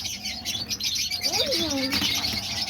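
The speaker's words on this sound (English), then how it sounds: "there's all the diamond doves, and they're all down there eating" Diamond doves and other cage birds chirp and twitter steadily in an aviary, with a clear nearby call rising and falling midway and faint talk in the background.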